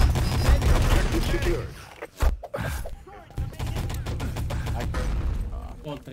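Rapid gunfire bursts and overlapping shots fill a professional 3-on-3 cup match in the shooter game Enemy Territory, with loud repeated volleys, a short lull and then more firing, and players' voices faintly mixed in.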